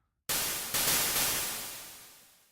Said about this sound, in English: let's say we choose this white noise